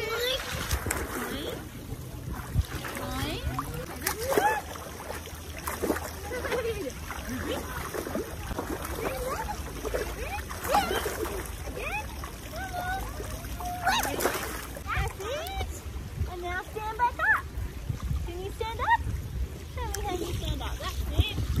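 Young children splashing in shallow water while doing frog jumps during a swim lesson, steady irregular splashes and sloshing throughout, with an adult voice and children talking over the water noise.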